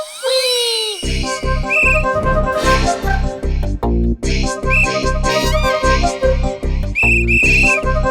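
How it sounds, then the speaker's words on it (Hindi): A loud whistle blown in repeated short bursts with brief gaps, shrill and close, alone without talk. "तुमने ये फर्र वाली सीटी कैसे बजाई?"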